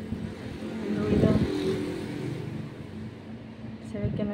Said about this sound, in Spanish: el ruido de las motos